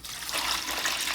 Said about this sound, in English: I'm going to pour some of this into the bucket,